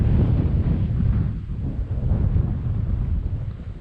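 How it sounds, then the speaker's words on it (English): Strong gusting wind batters the microphone beside a loch on the Cape Wrath Trail in the Scottish Highlands, a loud, continuous low roar with no speech. "This camera won't show it, but it is blowing a bit of a hoolie."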